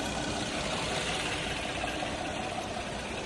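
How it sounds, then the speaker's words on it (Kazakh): A 2013 Kia K7 with a 3.0-litre engine idles at close range, giving a steady, even hum and whir with no revving, alone and unchanging throughout. "Мотор өте жақсы жұмыс істеп тұр."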